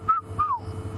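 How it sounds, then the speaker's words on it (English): Red-chested cuckoo calling during an evening safari game drive: two clear, whistled descending notes, fairly close, over a low steady rumble of ambient background. "And there's also the red-chested cuckoo calling."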